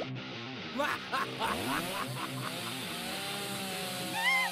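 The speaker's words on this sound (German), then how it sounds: "Ich nehme eine Kettensäge." A chainsaw revs in rising and falling bursts, loud and close, with harsh buzzing pulses settling into a steady whine and a few brief high squeals near the end.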